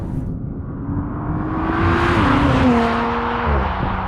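An Audi RS5 launches hard from a standstill with wheel spin, engine note climbing and surging in a loud, rising roar as the tires scrabble for grip, then easing off.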